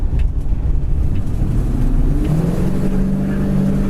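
A 1968 Chevelle Super Sport pulls away under acceleration, its engine note rising in pitch and loudness through a throaty roar, heard close with no voices.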